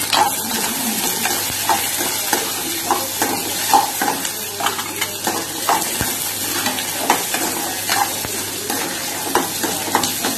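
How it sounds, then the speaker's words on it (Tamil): Small onions sizzle and fry in a pan for a village-style crab curry, with steady frying and repeated spoon scraping as they are stirred. "இந்த சின்ன வெங்காயம் கட் பண்ணி வச்சுக்கலாம்"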